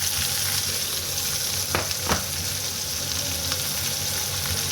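Sliced onion, green chili and curry leaves stirred in a hot pan for mutton stew, with a steady close frying hiss throughout and two brief scraping stir strokes, no talking.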